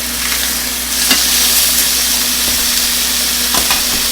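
Chicken pieces fry steadily in a hot pan, a continuous close sizzle with a few brief scrapes and clanks as the browned pieces are flipped over, no talking.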